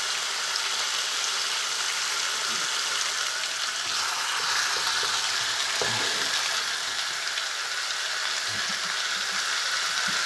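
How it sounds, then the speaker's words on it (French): A veal fillet searing in a hot frying pan gives a loud, steady hiss and crackle throughout, with occasional soft pops and spatters close by. "On va venir saisir notre pièce de veau et la faire colorer de chaque côté environ 3 minutes."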